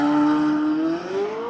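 A Chevrolet C8 Corvette Z06 launches from a standstill with traction control off, its engine note loud and close, holding steady and then climbing in pitch as it accelerates hard.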